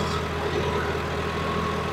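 A diesel tractor engine runs steadily at raised RPM, a continuous low rumble with constant loudness and no talk.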